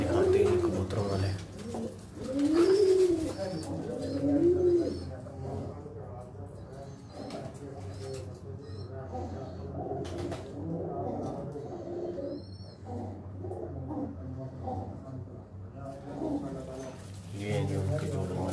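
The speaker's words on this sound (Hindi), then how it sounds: "ये हैं जी उनके जोड़ों वाले कबूतर।" Pigeons kept in pairs coo repeatedly on a rooftop, soft rolling calls rising and falling close by, with someone talking over them.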